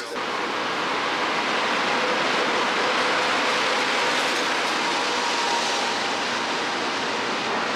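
Steady broadband rumble of a train station in France at evening rush, continuous rail and crowd noise filling the space with no clear individual events, fairly loud and unbroken throughout.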